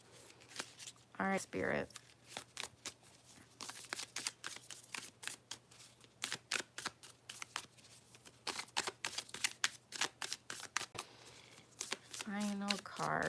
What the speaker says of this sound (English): I'm gonna pull one more card from the Beyond Lumeria